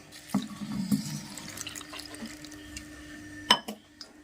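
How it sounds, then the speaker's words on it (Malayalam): Rice water (kanji water) being poured into a pot of traditional Kerala curry, heard as a few soft splashes and trickles with scattered drips and a sharper splash near the end, fairly quiet and close. "ഈ കഞ്ഞിവെള്ളം കൂടെ നമുക്ക് ഇതിനകത്ത് ഒഴിക്കാം"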